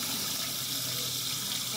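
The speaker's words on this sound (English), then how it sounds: "And you just add water. Swish it around." Tap water running steadily into a pot of rice being rinsed for Spanish rice, a continuous close splashing flow with no break.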